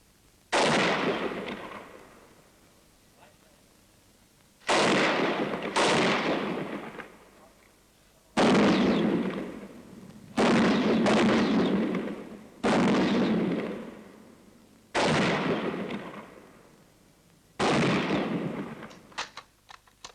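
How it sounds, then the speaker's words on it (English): A Bren light machine gun fires on a British Army training range in 1943: eight loud, close bursts come every two to three seconds, each with a sharp attack and a ringing decay. "You're going on the range to fire the Bren."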